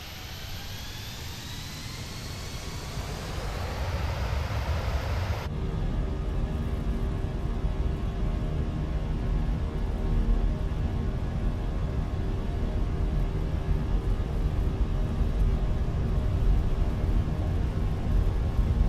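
Jet engines spooling up for takeoff in Microsoft Flight Simulator, a rising whine that gives way to a loud, steady roar sustained through the takeoff roll.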